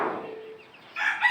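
Chickens and a rooster at backyard coops where bantams are kept, with a low call fading out and then a brighter crowing or squawking burst near the end, fairly close and with no talk.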